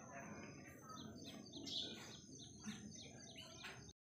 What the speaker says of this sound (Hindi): चिड़िया कर रही है चू चू चू चू